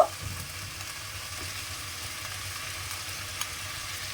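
Chopped tomato sautéing in a pan makes a soft, steady frying sizzle, fairly quiet and close, with a light knock at the start and an occasional faint utensil tap.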